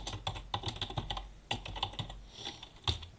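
A brief stretch of soft, close keyboard typing, irregular clicking keystrokes in quick succession with a couple of slightly harder taps.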